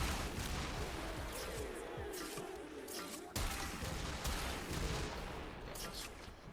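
The Kuva Zarr fires in the Warframe video game, a dense, steady barrage of blasts and explosions that continues without a break, with a sharp jump in loudness partway through.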